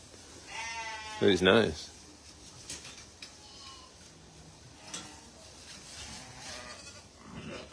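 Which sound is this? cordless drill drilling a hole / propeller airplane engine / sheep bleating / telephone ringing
sheep bleating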